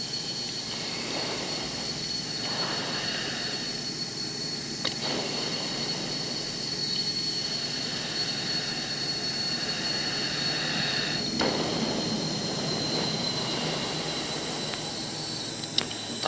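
A jet aircraft engine spooling up during start, a steady loud whine and rushing roar that holds fairly even throughout, with faint occasional clicks over the top.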